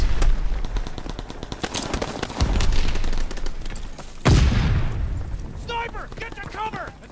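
Gunfire in Call of Duty WWII multiplayer: rapid automatic bursts and single shots crackling loudly, then a heavy boom near the middle, with game voices chattering faintly toward the end.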